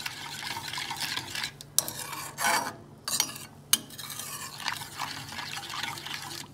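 A homemade cough drop mixture is stirred with a pinch of pepper powder, giving a continuous close scraping and rubbing with a few sharper clinks of the spoon against the pot.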